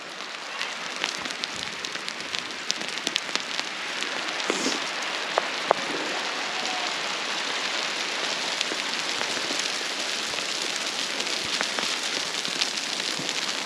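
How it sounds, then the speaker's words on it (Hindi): Dense, steady hail clatters continuously on an open field of ploughed hill farmland, an even broadband patter with scattered sharper ice hits, loud and close throughout with no talking. "बहुत ही भयंकर तकड़ी वाली ओले गिरने बैठ गए"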